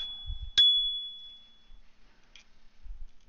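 A single bright ding from the bell on an Apollo City 2022 electric scooter rings out once and fades over about a second, in a quiet room with faint handling noises.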